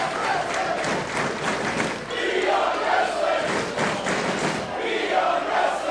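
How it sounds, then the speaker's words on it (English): A wrestling crowd in Worcester roars and chants at a live independent show, loud pulsing waves of cheering and rhythmic shouting that rise and fall over several seconds, filling the room without letup. "And this Worcester crowd alive once again."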